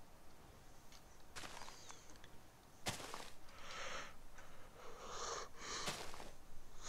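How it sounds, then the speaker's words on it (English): A person yawning close to the microphone, with long breathy, wheezing inhalations and exhalations that swell and fade in two or three drawn-out waves, and no speech. "I don't know why I'm yawning so much"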